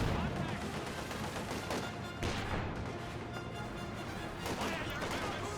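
An anti-tank rifle grenade fired during a Company of Heroes 2 battle, its report blended into a dense, faint wash of gunfire, crashes and explosions with a commentator's voice over it.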